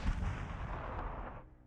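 Artillery fire in the WW2 strategy game Panzer Corps 2, a single heavy boom that rolls out and fades away over about a second and a half, fairly quiet, with no talking.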